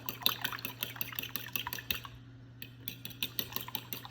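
Egg kebab mixture is mixed in a bowl with quick, wet clicking and sloshing strokes. They run in a busy rhythm, pause briefly, then start again. The sound is close and there is no voice.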